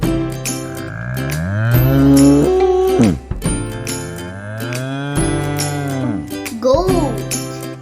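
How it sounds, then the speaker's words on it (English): A bull moos in long, loud, drawn-out calls over a bright backing tune in a children's farm animal song. "I'm a bull."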